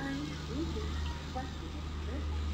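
The generator car of the 12931 Mumbai Central–Ahmedabad Double Decker Express in a train simulator game gives off a steady low mechanical drone, running continuously beneath someone talking.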